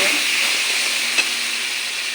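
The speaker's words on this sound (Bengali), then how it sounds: "এখন ফেটানো দই আমি দিয়ে দেব" Whisked yogurt hitting hot oil in a pan for boal fish curry gives a steady, loud broadband sizzle and hiss that holds evenly throughout, with no talking.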